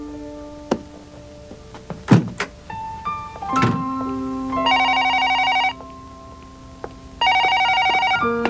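A telephone rings in an old 1997 Hong Kong ATV drama, two sustained electronic ring bursts following several knocks and thumps of handling, close and clear with no talking.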